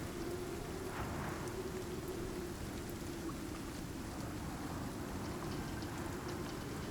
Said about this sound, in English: I can get out of the rain in here pretty comfortably